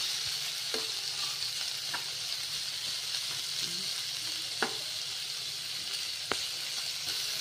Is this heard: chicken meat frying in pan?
yes